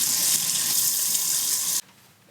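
Tap water runs steadily while rinsing conditioner out of hair, a loud, close, even hiss of flowing and splashing water that stops abruptly near the end, leaving near silence.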